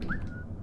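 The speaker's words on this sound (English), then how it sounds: "Maybe I'm supposed to whistle?" A brief rising whistle from a character in the video game Velvet Assassin, a single clear tone that climbs and then holds briefly before fading, heard alone.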